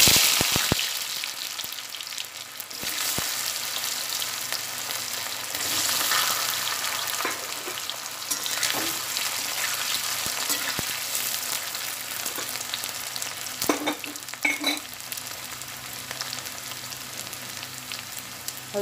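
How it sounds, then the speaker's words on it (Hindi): Potatoes fry in hot oil for an aloo sabzi, giving a steady, dense sizzle with occasional sharper crackles and pops, close and continuous, with no talking. "तो अब मैं इसमें थोड़ा सा पोटैटो को फ्राई कर लूँगी अच्छे से"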